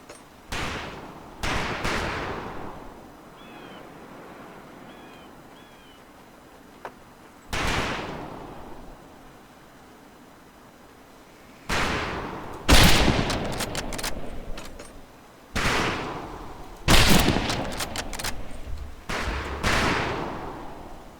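Scoped rifle shots fired at long-range targets on a Marine training range in the game Medal of Honor Pacific Assault, several loud sharp cracks with echoing tails spaced irregularly over a quiet ambient background.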